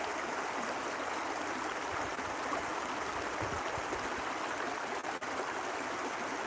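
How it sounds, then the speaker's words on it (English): Water flows past rocks in a stream, a steady close rushing and babbling hiss that holds without pause, with no voices over it. "Enjoy the sound of water."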